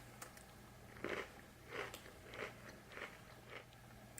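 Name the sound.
biting and chewing a hatch chili cookie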